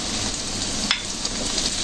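Tofu and fishballs stir-fried in a pan, giving a steady, dense sizzle with a couple of faint scraping stirs, close and without voices.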